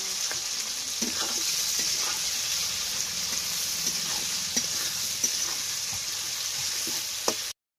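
Onions frying in mustard oil for a chicken and potato curry, with a continuous sizzle and occasional light stirring clicks from a spoon in the pan, close and steady with no talking.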